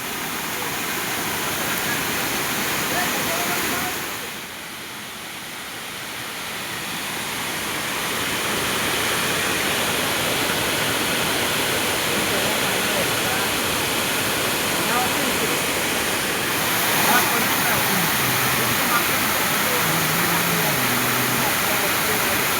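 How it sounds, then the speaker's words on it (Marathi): A village waterfall in the forest roars as a loud, continuous broadband rush, with a brief dip partway through before the steady wash returns, heard up close. "आम्ही पोचलो आमच्या गावाच्या धबधब्यावर."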